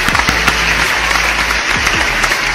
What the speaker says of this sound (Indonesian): tepuk tangan dulu dong untuk Bu Ini